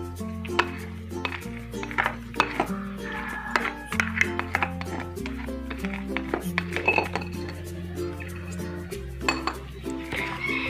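Cilok dough of wheat flour, seasoning, scallion and celery stirred in a bowl, with steady clinking and scraping of a utensil against the dish, close and fairly quiet, under a constant backing of music.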